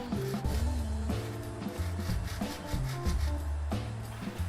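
A 5x5 wooden twisty puzzle being turned by hand with its screws loosened, giving close, repeated wooden rubbing and scraping in an uneven rhythm as the layers rotate, with no talking.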